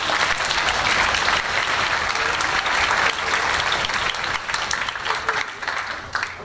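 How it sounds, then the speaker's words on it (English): Strong, sustained audience applause at a high school orchestra concert, dense clapping throughout that thins and softens in the last second or two. "she deserves a round of applause."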